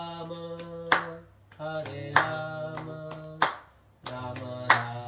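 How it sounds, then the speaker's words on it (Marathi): Four sharp, evenly spaced claps ring out during a Hare Krishna chant, each landing over sustained sung and droning tones that swell and fade between beats. "वाजव टाळ्या"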